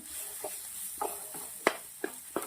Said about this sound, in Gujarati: ધીમા તાપે પાંચ મિનિટ સુધી સાંતળી લેવાનું છે